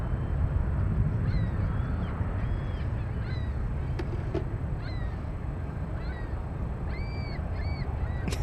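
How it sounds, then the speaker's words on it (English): Birds honking and calling near San Francisco airport, repeated short nasal honks scattered throughout and clustering near the end, over a steady low roar of distant aircraft noise. "The birds are going wild over here."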